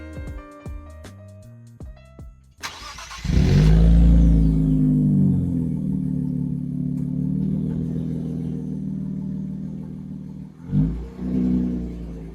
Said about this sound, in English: I'll give you guys some quick revs so you guys can kind of hear it